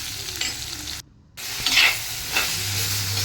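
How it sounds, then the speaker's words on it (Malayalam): Thinly sliced onion with salt sautéing in a pan for a home-style tomato curry, a steady close sizzle and hiss with a brief stir, a short drop to near silence, then frying resumes. "ഒരു സവാള കനം കുറച്ച് അരിഞ്ഞത് അത് ഇട്ട് കൊടുത്തു അതോടൊപ്പം തന്നെ നമ്മൾ കുറച്ച് ഉപ്പും കൂടെ ചേർക്കുകയാണെങ്കിൽ പെട്ടെന്ന് തന്നെ വഴണ്ടി വരാൻ സാധിക്കും"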